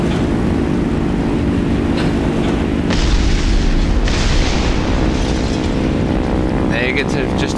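An aircraft slams into the ground in War Thunder, a heavy booming explosion with a deep rumbling roar that swells and lingers, over continuous engine drone and a few sharp later bursts.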